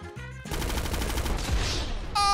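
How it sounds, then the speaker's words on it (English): Gunfire in GTA 5 during a bank robbery, a dense burst of rapid shots following a short sharp sound at the start, loud and close, with no talk over it. "I think I got sniped. One of them sniped me."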